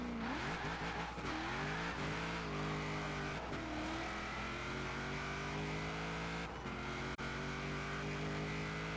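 A racing car in Forza Horizon 4 drives with a loud, steady engine drone whose pitch rises and falls through gear shifts and throttle changes. It sounds close and fills the whole stretch, with no talking.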